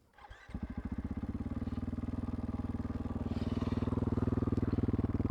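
A Husqvarna FE501 S with a GET ECU and an opened-up intake starts, then idles in neutral, settling into a rapid, even single-cylinder thump that grows slightly louder toward the end, close by and without talk.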